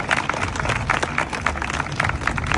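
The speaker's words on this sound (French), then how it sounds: "On peut tous bien les applaudir." A large audience at a pitch contest prize ceremony applauds the candidates with steady, dense clapping that fills the space evenly throughout.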